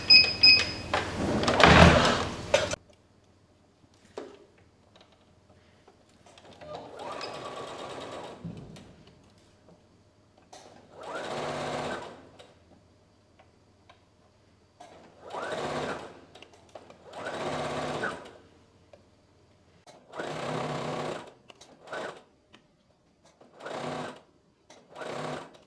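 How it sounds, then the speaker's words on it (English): A sewing machine stitches a dress seam in several steady bursts of fast mechanical whirring, separated by short pauses. A louder clatter sounds at the start. "And now I'm just going to go and sew along here."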